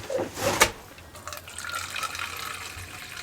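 Tap water runs and splashes into a bowl or sink for a kitten, a close gurgling pour with a short clatter at the start, then a steady trickling stream.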